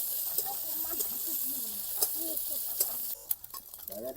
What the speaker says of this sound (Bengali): পোস্তুর জন্য চিংড়ি ভাজা হচ্ছে